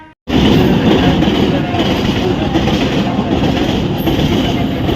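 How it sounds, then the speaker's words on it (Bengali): A train pulling into a station, a loud, close rumble with rattling, clattering wheels that starts suddenly and holds steady throughout. "দেখো আমার ট্রেন চলে এসছে"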